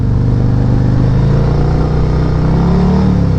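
A Harley motorcycle engine runs steadily and loud while the rider slips the clutch, with a low continuous rumble that holds an even pitch and rises slightly near the end, no talking over it.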